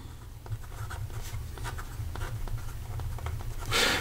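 Scratchy strokes of a Pilot Custom 823 fountain pen with a 14 karat medium nib and Montblanc toffee brown ink moving across paper, steady soft rubbing with faint individual strokes over a low hum, alone and close.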